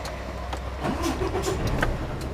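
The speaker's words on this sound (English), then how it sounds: "They got the lorry passing." A lorry rumbles past on the road, heard from inside a moving truck cab as a steady low engine drone with a brief swelling pass, no talking.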